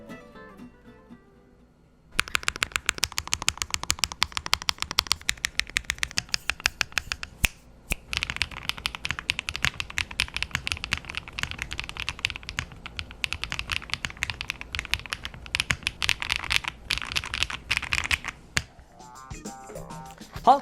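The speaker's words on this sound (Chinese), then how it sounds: "现在呢，就让我们听一看它的打字音吧" Light-force Xinhai linear switches being typed on a mechanical keyboard, with rapid, crisp keystrokes in a steady close-up stream after a quiet opening, briefly pausing a few times and tapering off at the end.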